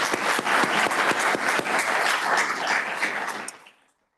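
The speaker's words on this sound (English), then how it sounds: "please join me in giving them a big round of applause as well" A conference audience at a Colorado law event on natural resources applauds sponsors, brisk clapping with distinct individual claps that holds steady and then fades out over the last half second.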